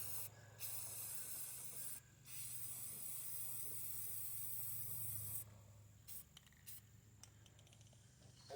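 Montana crackle spray paint hisses from the can in a long steady burst with brief pauses, then shorter broken spurts, close and fairly loud with no talking.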